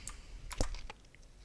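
A few quick keystrokes on a computer keyboard, soft close clicks with one sharper tap in the middle, then quiet.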